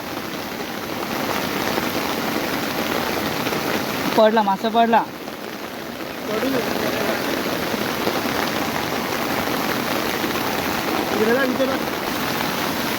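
Heavy rain hisses steadily on the Konkan coast during a night of downhill-run fishing, with a brief burst of splashing and excited talk partway through before the downpour resumes alone.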